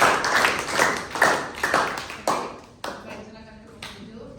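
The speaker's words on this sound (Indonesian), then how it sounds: "Tepuk tangan untuk kelompok 7." A class in a classroom claps for a student group, a burst of sharp, fairly close claps that thins out into scattered single claps as it fades. Voices can be heard under the clapping.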